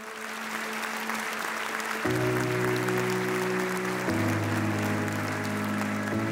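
A ceremony audience applauds for a speaker at a New Year's civic address, a dense, sustained clapping crowd with a musical tone rising in steps underneath.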